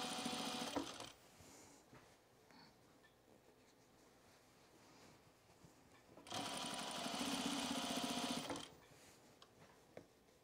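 A sewing machine stitches flat felt seams on a jacket, a short burst of whirring near the start, a quiet stretch, then a steady run of several seconds before stopping.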